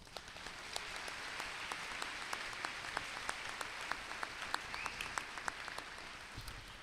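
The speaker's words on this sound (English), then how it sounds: "please join me in a round of applause" A crowd at a high school graduation ceremony applauds steadily, many hands clapping in a dense, even patter with a few sharper claps standing out, moderately distant in a large room.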